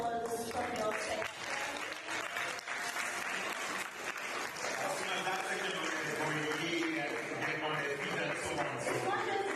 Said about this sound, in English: Swimmers, I would like a little more applause from your section